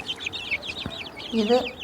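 Native chickens, ten-month-old hens offered for sale, give a quick run of close, clear clucks and squawks, ending in a louder pulsed call.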